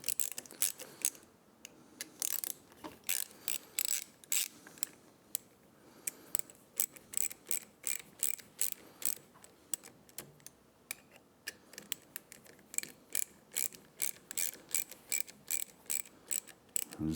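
Ratchet wrench loosening the handlebar clamp bolts on a 2024 Triumph Speed Twin 1200, a steady run of sharp, close metallic clicks repeating through the whole stretch with brief pauses, no talking.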